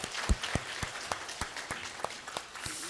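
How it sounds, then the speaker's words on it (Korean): Church congregation applauding during a New Year thanksgiving Sunday service, a thin scattering of claps with distinct sharp individual hand strikes standing out over a soft background patter. "2024년을 선물 하나님께 먼저 감사와 영광의 박수 한번 더 올려드립니다."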